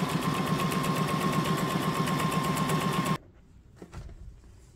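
A Brother SM2700 sewing machine runs on stitch pattern number 4, giving a steady, fast, mechanical whirring hum at close range for about three seconds. It then stops abruptly, and a few faint handling clicks follow.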